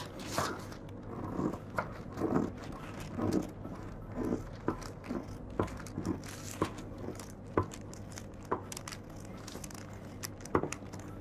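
Scissors cut through coat fabric on a table to shape a gusset, giving repeated crisp snips and rustling cloth at an irregular, close-up rhythm.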